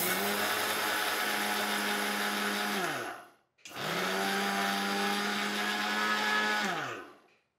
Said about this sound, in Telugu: మనకి మిక్సీ ఇక్కడే ఉంది.